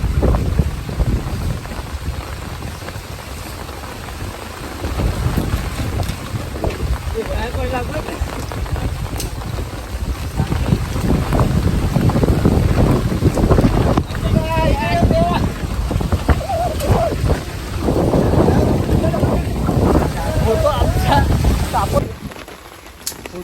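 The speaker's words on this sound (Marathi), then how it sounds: "वारा पाणी आहे" Wind blows over Vihar lake, making a continuous broad rushing noise that buffets the microphone and grows stronger midway, while people talk throughout.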